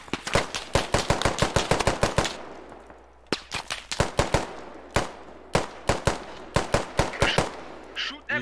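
Automatic gunfire in the Squad military shooter, loud rapid bursts of shots with brief pauses between volleys, close and dominant, with some background battlefield noise.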